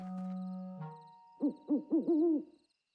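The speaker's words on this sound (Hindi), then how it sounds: "तो देखा बच्चों, ये तो एक उल्लू है।" A cartoon owl gives a run of four close, rounded hoots after a short sustained tone, clear and isolated with no talk.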